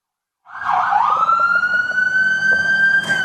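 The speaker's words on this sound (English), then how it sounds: "Are you listening to the sirens?" A loud siren wails steadily close by, its tone sweeping up and holding, with traffic rumble underneath and no talking.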